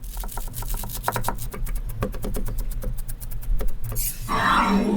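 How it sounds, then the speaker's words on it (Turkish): Quick, evenly spaced knife taps on a board as parsley is finely chopped, ending in a rustling, scraping sweep of the pile. "Maydanozu suda yıkayın. İnce doğrayın."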